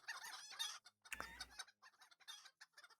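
Chickens clucking in the Lord of the Rings Online video game: a busy flock of hens cackling and clucking continuously, with one louder, longer squawk in the middle, close and lively throughout.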